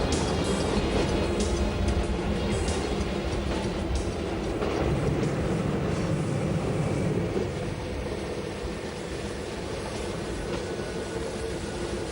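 A meter gauge train on the Swiss Brünig line rumbles steadily along the rails, a continuous loud rolling roar with faint rhythmic clatter and no voices.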